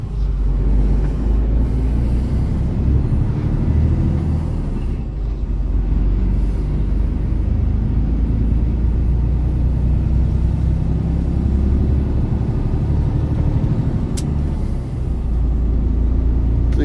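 A truck engine drones steadily under heavy throttle, a deep continuous rumble with road and cabin noise, loud and close, holding fairly even with slight swells and dips over the stretch.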